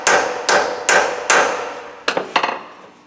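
Four evenly spaced heavy hammer blows ring out close and loud on a rusted rear shock absorber of a Peugeot 307, followed by two lighter, quicker strikes.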